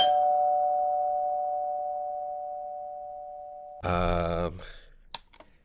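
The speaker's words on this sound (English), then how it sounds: "I know the doorbell didn't ring at 1:12 a.m." A doorbell chime rings and slowly decays for several seconds, then a short burst of clattering and a few faint clicks follow.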